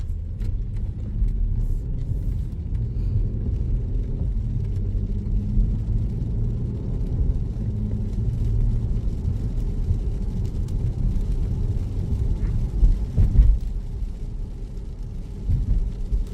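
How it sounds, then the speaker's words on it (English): A steady, low road rumble hums inside the quiet cabin of a 2021 Audi A8 L 55 Quattro as it drives smoothly along, with no talking. "Car drives so nice, super smooth and very quiet."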